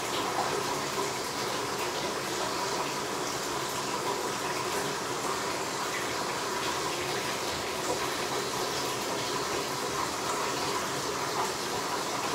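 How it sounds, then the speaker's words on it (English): Water runs steadily and loudly into an ice bath filled with ice, a continuous broadband rush that does not change for the whole stretch, with no talking over it. "The water is running so that it doesn't run out"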